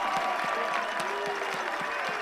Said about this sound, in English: And listen to this crowd.